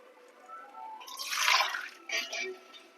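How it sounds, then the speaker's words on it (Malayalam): A small splash of water is poured into a pan of crab thoran, a brief liquid gush swelling to a peak and then a short second spill, close by, with no voices. "ഒരു തുള്ളി വെള്ളം ഒഴിച്ചാണ് വെക്കുന്നത്."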